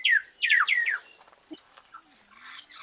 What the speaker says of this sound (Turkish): İlginç sesleri var ve şu kuşları bir görün arkadaşlar.